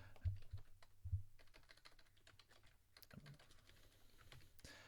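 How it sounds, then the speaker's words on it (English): Keys clatter on a computer keyboard as someone types a short word into the Microsoft Teams chat window, a quick burst of close, crisp clicks followed by a few scattered taps, alone with no talking. "We can just type hello."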